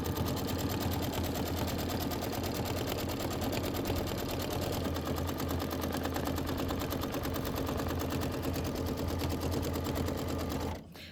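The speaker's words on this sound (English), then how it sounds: "placement stitch or your tack down stitch for your background fabric" An embroidery machine sews a placement or tack-down stitch on background fabric for a Kimberbell Enchanted Winter mittens quilt block, a steady, loud, rapid mechanical whirring and clatter running continuously before stopping at the very end.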